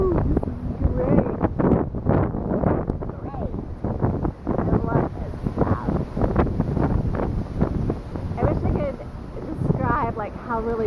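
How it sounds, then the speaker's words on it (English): Strong gusty wind roars during a tornado-warning storm in Clinton, Iowa, battering the microphone with heavy buffeting rumble, while a person talks throughout. "Like how really windy this is."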